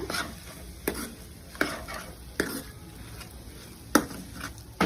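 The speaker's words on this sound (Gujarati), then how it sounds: "મસાલો સરસ રીતે આપણે મિક્સ કરી દેવાનો છે." A spoon scrapes and stirs paneer-potato paratha filling masala in a pan, with a few sharp strokes against the metal over a soft, steady sizzle.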